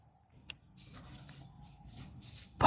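Chalk or marker scratching across a classroom board while a point is written during a geography lesson on India's map, a faint, uneven stroke-by-stroke rasp lasting about two seconds in a quiet room.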